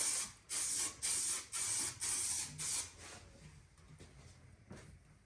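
Spray can applying a third coat of matte black paint across a car engine bay, heard as five loud, even hissing bursts close by, each lasting about half a second, then quieter rustling movement with no talk.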